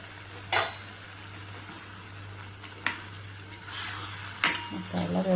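Eggs sliced open dropping into a pan of green chili and garlic kharda paste, with steady frying sizzle, a few sharp clinks and stirring scrapes of a utensil against the pan.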